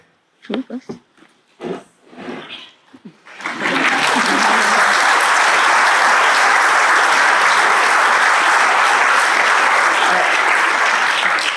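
Audience at a literary talk about the court of King Arthur breaks into loud, sustained applause after a few seconds of speech, the clapping filling the room steadily to the end.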